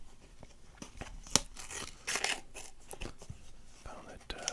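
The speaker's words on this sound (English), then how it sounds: "Found that the only way to get these things out is to rip the box open" A cardboard box of baseball cards is ripped open in close, quiet tearing and crinkling bursts, soft and intimate, with faint whispering between the tears.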